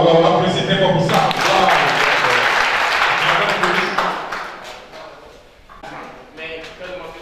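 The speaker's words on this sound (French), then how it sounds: "applaudissez très fort pour ça" A conference audience applauds loudly for several seconds, dense clapping that then fades, with a voice coming back in at the end.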